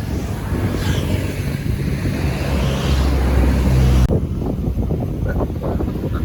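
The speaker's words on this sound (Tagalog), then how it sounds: "Lakas ng hangin." Strong mountain wind roars across an open viewpoint on a muddy ride toward the Sierra Madre near Tanay, Rizal, a loud continuous rush that cuts abruptly to a thinner, gustier buffeting.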